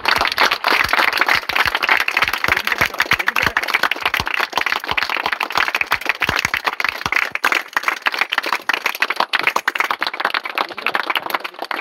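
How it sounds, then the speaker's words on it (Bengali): An audience claps hands continuously at a celebration for a sports figure, a loud, dense patter of many hands that holds steady throughout. "আর আমরা প্রত্যেকে হাততালি দিচ্ছি।"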